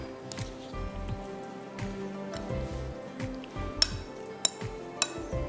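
Chicken is mixed in a bowl with salt, garlic, white pepper, soy sauce and egg, giving soft squishing and stirring under scattered metallic clinks of a utensil against the bowl, with a few sharper taps.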